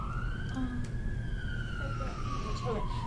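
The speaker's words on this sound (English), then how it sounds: "Cue siren." A siren sound effect played during a live-streamed gemstone sale, a steady rising and falling wail that runs through the whole moment, loud and continuous over low background noise.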